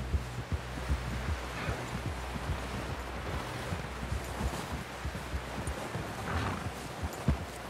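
A horse in the video game Red Dead Redemption 2 plods along with soft, steady hoof clops over a low rumbling background, fairly quiet and without talk.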